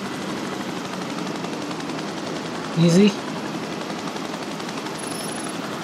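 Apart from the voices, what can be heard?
helicopter flying in video game Biological Imperative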